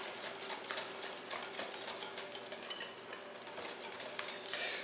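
Butternut squash pie filling whisked in a bowl, a steady run of quick, light scraping clicks from the whisk, fairly quiet and with no voices.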